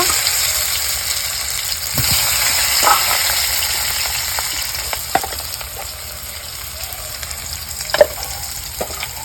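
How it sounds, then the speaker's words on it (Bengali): Potatoes frying in a pan after meat has been fried in it, a steady close sizzle with occasional stirring clatter and brief scrapes, loud and continuous with no talking. "মাংস ভাজা হয়ে গেছে, কিন্তু এখন আলুগুলো ভেজে নেব।"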